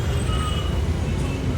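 Heavy highway traffic roars close by while a bus rumbles past, a loud continuous low wash of engines and tyres with no gaps.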